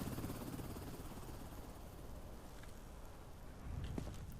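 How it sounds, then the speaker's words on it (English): A helicopter in the video game Quarantine Zone gives off a steady broadband rotor drone, faint and continuous throughout with no pauses. "Helicopter."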